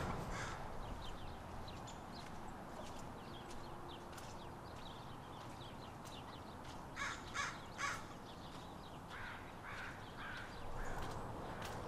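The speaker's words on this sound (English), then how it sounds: "the crows keep wheeling and cawing and flying over this park" Crows wheel above a park and caw repeatedly, some calls fairly near and others farther off, in short bursts of two or three harsh caws against a steady outdoor hum.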